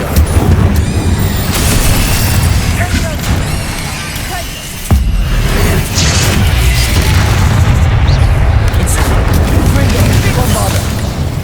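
Bombarda and Confringo explosive spells in Hogwarts Legacy, a loud, continuous barrage of booming blasts with a sharp crack near the middle and a voice mixed beneath the rumble.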